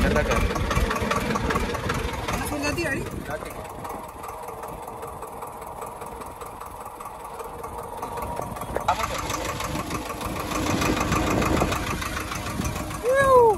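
Tractor engine running in a village, a steady mid-pitched chugging drone with rhythmic knocking that swells louder toward the end, with voices talking over it.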